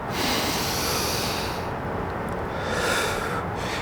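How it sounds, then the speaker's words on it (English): Deep breathing before an ice swim, long loud breaths close to the microphone, a sustained airy rush that pauses briefly and then starts again. "try to focus on your breathing, like try to breathe a little more than you think"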